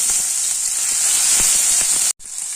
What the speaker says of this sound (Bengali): জিরে ফোড়ন দিয়ে নিলাম, একটা তেজপাতা দিয়ে নেবো, আর একটা শুকনো লঙ্কা দিয়ে নেবো